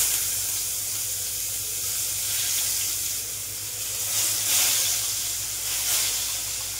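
Chopped onion, ginger and garlic hit hot oil in a wok, producing a steady, loud sizzling hiss that holds close and continuous throughout.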